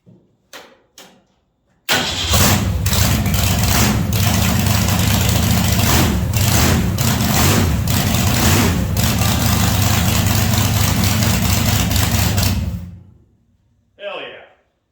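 A 1963 Ford 260 V8 in a 1931 Ford-style roadster cranks briefly, fires and settles into a loud, steady idle for about ten seconds before shutting off, with a short voice at the very end.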